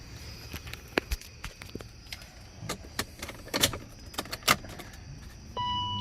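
Keys grabbed and jangling beside a BMW E39, a scatter of bright metallic clinks and rattles in uneven bursts, near and moderately loud, ending in a steady chime or electronic tone, with no voices.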